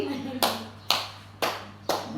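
A woman at a teachers' meeting claps her hands four times in an even, deliberate rhythm, each crisp clap close and distinct, with a low room hum and no talk between the claps.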